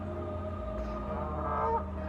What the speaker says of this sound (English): there's a ton of geese over here